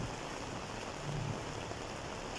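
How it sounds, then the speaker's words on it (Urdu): Steady rain falls over the city of Islamabad, a soft, even hiss of drops on surfaces that continues without pause, fairly quiet and with no voices. "پتے بھی اس بارش نے گرا دیے، برستی بوندیں"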